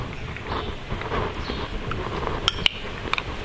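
A spoon mixes a sauce for beer-battered flathead tails in a bowl, making soft rhythmic scraping strokes and a few sharp clinks against the bowl near the end, close and moderately loud.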